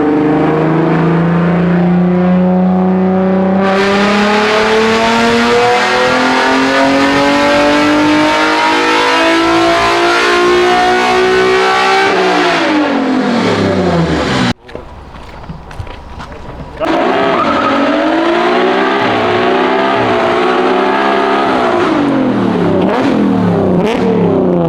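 A cammed Nissan Altima engine screams through a long wide-open pull on a dyno, pitch climbing steadily before a sharp cut and brief lull, then revving hard again; loud and close with a rough, choppy idle character.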